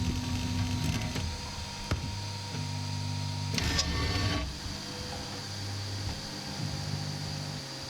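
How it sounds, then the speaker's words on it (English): The stepper motors of a Hictop Prusa i3 3D printer hum and whine in steady tonal runs while auto-homing, with pitch shifts as each axis moves and a few clicks and knocks in between. "The next thing I'll do is another auto home. I'll go to Prepare and then select Auto Home."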